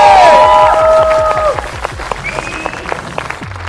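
Audience applause at a televised Nepali dance reality competition, a dense crowd clapping that swells at the start then thins into scattered claps, with musical tones and cheers layered over the first half.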